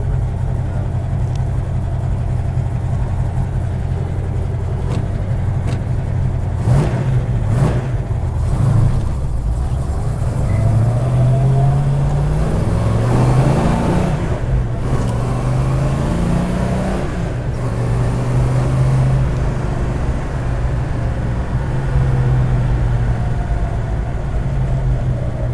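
A 1970 Plymouth GTX V-code with a four-speed manual drives past and revs, its engine note rising and falling through gear shifts, loud and close throughout with no talking.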